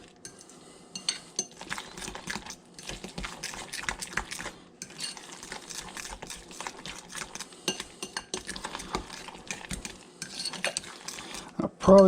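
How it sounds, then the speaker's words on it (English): Utensil stirs and scrapes in a bowl, mixing a bluefish patty mixture with two eggs, as irregular close clinks and swishes that run steadily with brief pauses, without voices. "Now we're just going to mix all that together."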